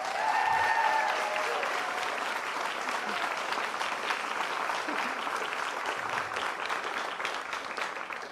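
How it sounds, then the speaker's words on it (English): Sustained audience applause fills a livestreamed CreativeMornings talk in New York, a dense steady wash of clapping from a large crowd that holds at even loudness throughout, with a brief voice heard at the very start. "Can we give another round of applause?"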